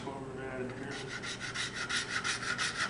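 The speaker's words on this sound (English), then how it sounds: "So I'm going to take the scraper." Close, rhythmic scraping across wood with a scraper while thinning a turkey call paddle, a series of quick raspy strokes that grow more regular after the first second.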